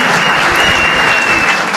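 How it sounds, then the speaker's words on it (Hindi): Audience applause for a contestant on a stage show, steady dense clapping from a crowd throughout, fairly loud and unbroken. "Start clapping for our contestant for the day, Tanish Singh guys."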